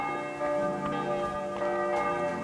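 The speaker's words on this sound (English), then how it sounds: "Oh, look, listen to those bells." Church bells ring in the medieval video game Kingdom Come II, a full, sustained peal with several strikes at steady intervals, loud and close, with no talking over them.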